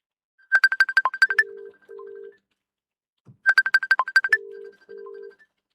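A telephone ringtone sounds twice in identical electronic bursts, each a quick run of chirping tones followed by two longer beeps, clear and isolated against silence.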